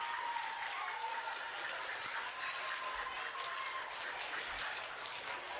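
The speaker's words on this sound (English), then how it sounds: "Let's give quarter 4 a round of applause as well." Quiet, steady applause from an audience at a 5th grade DARE graduation, a soft continuous patter of many hands heard from a distance.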